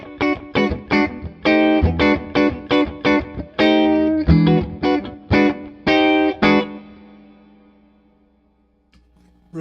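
Holland Strat electric guitar with a pull pot on the master tone giving a Telecaster-like twang, played as a run of bright, punchy chords and notes in quick rhythm, then ringing out and fading to near silence.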